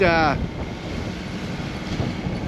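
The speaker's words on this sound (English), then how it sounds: "we've got around 20 knots of wind and some quite big swells" Strong wind of about 20 knots roars over a sailing boat rounding a cape in big swells, a steady broadband rush buffeting the microphone after a brief tonal chirp at the start.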